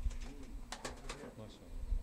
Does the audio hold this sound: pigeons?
yes